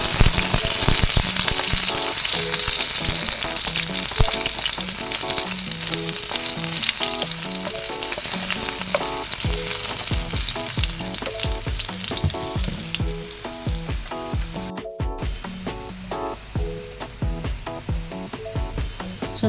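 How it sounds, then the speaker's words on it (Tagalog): Garlic fries in hot cooking oil with a loud, dense, continuous sizzle and crackle, heard close up and accompanied by occasional stirring clinks, with no talking. "Mainit ng ating mantika, ilagay na natin ang ating bawang."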